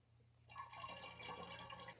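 Bubbling yeast starter poured into a container, a soft, continuous liquid splash and gurgle that begins after a brief quiet moment and runs steadily to the end, close and faint.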